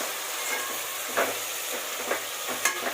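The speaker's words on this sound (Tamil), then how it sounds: "இப்போ இது நல்லா வதங்கட்டும்" Tomatoes sautéing in a pan for chana biryani give a soft, steady sizzle with a few light stirring scrapes, heard up close and without talk.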